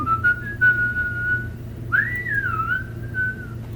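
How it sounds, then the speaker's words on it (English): A melodic whistle from a K-pop song, one sustained whistled note followed by a higher sliding phrase, clear and prominent over a soft low backing. "It has a very good whistle"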